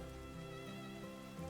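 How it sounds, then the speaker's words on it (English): Steady rain falling in the farming video game Harvestella, a soft continuous patter with faint background music, heard alone with no voices. "because it's raining"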